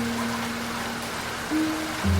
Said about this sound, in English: Only the rain remains, faithful and recurring, the great seasonal rain of the Pacific coast